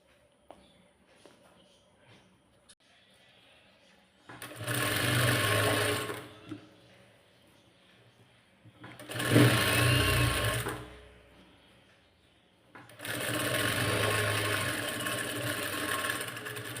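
A sewing machine stitching a blouse runs in three separate bursts of a few seconds each, a loud, close whirring drone, with quiet handling noise in the gaps between runs.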